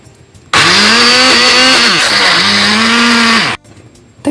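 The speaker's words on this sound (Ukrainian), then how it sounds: "Для однорідності краще все перебити блендером." An electric blender whirs loudly for about three seconds, blending a cottage cheese mixture with starch and flour, its motor pitch dipping and rising under load before cutting off abruptly.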